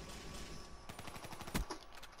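Call of Duty gunfire from a multiplayer match, a quick run of rapid shots building to a sharper burst, heard fairly faint and distant with no talk over it.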